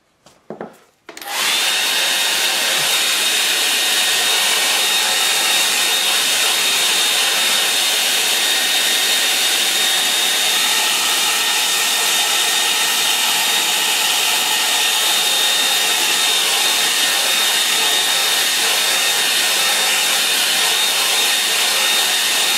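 After a couple of clicks, a hair dryer roars to life and runs continuously for over twenty seconds close by, drying wet-in-wet watercolour paint on paper with an even, loud rushing hiss and a thin steady whine.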